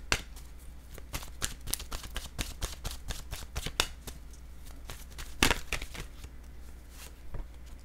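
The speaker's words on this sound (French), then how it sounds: "Allons-y avec une carte de mon oracle de l'âme intuitive." Oracle cards being shuffled by hand, a fast run of crisp riffling flicks and slaps, close and steady with one sharper snap partway, no talk.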